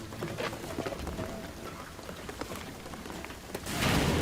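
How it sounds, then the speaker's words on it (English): Heavy rain pours steadily on surfaces in Shadow of the Tomb Raider, a dense patter of drops with occasional bird calls, the downpour intensifying toward the end. "the rain is gonna flood it"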